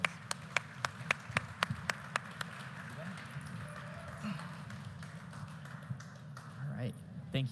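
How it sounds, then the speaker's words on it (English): Audience at a Breakpoint panel applauding the guests, a few sharp, distinct claps at first, then softer scattered clapping under voices talking. "Guys, round of applause for these guys"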